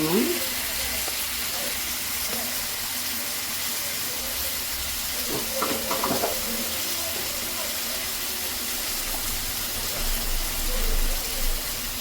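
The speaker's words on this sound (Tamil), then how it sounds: "நல்லா வதக்கி விட்டுட்டு இப்போ நம்ம மசாலா ஆட் பண்ணணும்." Chicken sautés in a pan with a continuous hissing sizzle and steam, steady and close, broken by a few brief stirring clatters.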